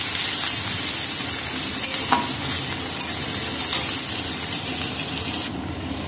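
Chopped onion, green chili and curry leaves fry in hot oil for a sabu dish, a dense, steady sizzle up close with occasional clinks and scrapes of a stirring spoon, no voices.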